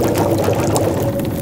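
Water pours steadily in the survival game The Long Dark, a continuous close, full-bodied liquid gush with no break and no voices.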